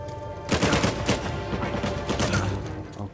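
Gunfire in the video game Uncharted 4 with sniper enemies: dense, crackling shots and impacts in a steady barrage, loud and close, with no talk.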